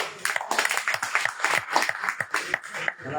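A small group in a hall claps for newcomers at a DXN day-long training session in Jashore, irregular close hand claps with a loose, uneven rhythm and no voices.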